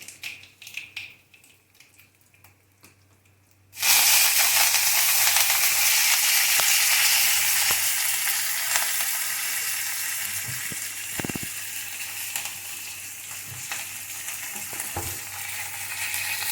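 Curry leaves and asafoetida hit hot oil for a fenugreek mango pickle, bursting into a loud, sudden sizzle after a few quiet seconds, then a steady close crackling frying with a few faint clinks.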